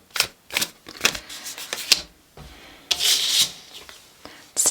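Tarot cards being shuffled by hand, a series of quick riffling bursts and soft rubbing slides, close and fairly loud, with one longer brushing shuffle near the end.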